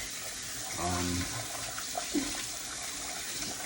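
Rice being washed by hand in water for Jamaican stew peas, a soft steady wash of running and sloshing water with a brief louder swirl about a second in and another splash near the middle, close by.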